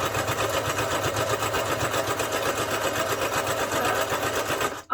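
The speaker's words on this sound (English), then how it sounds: "fold that down and sew that other side" A sewing machine stitches through folded paper concertina bag tags, a fast, steady mechanical rattle running close and unbroken for several seconds before stopping abruptly.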